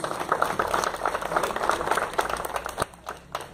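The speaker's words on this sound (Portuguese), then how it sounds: "Você pode dar um aplauso ao Senhor Jesus?" Congregation clapping in praise to Jesus during a Portuguese-language church sermon, a steady patter of many hands in a reverberant hall, moderately loud with scattered louder claps.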